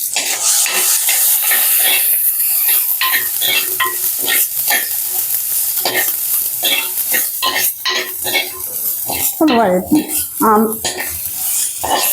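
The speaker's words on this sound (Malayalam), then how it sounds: "ആവശ്യ മസാലയുടെ ഒരു പച്ച മണം പോകുന്നത് വരെ നമുക്കൊന്ന് വഴറ്റാം" Masala stirred and sautéed in a pan with turmeric and crushed spices for a Kerala potato stir-fry, a steady close sizzle broken by repeated spoon scrapes and clinks against the pan, sounding alone without talk.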